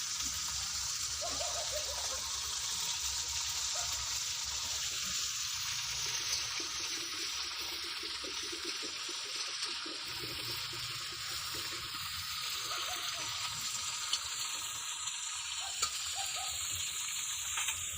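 Whole cumin seeds sizzle steadily in hot oil in a village-style kitchen while desi chicken is being cooked, giving a soft, constant crackling hiss that stays even and fairly faint throughout.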